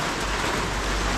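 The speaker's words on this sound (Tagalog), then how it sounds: "Kusog ko yung ulan ay." Heavy rain falls at night on a newly built house, a dense, even roar of rain with no break across the short stretch and no voices.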